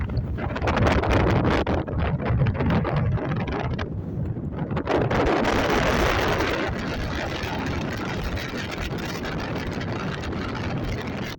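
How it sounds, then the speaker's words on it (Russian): Strong mountain wind buffets the microphone near the 3492 m summit of Medik peak, a continuous loud roaring rush with gusty swells and no voices. "Также дует ветер."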